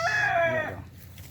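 A rooster crows close and loud at a gamecock farm, one strong harmonic call that fades out after about half a second, followed by quiet ambient noise.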